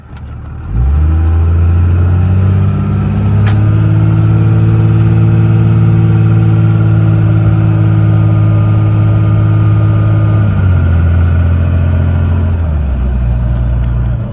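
A 2002 Cummins Ram diesel truck with transmission trouble pulling along in overdrive after shifting through its gears, a loud close engine drone that holds steady and then drops in pitch near the end.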